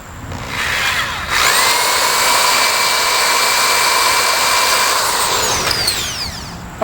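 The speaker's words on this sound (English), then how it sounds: "I'm going to have to drill here to actually attach this to it." A power drill bores through a canoe seat strut on an Old Town canoe, spinning up with a sharp whine, holding a steady loud pitch for several seconds, then winding down, with no talk.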